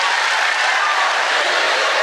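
Audience clapping at a comedy show, a dense, loud, steady patter of hands that fills the whole moment without pause and carries no speech.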